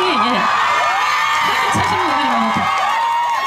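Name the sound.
audience shouting and cheering at concert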